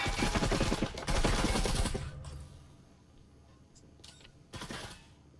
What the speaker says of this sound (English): Wallbang's coming in, trying to get some early damage off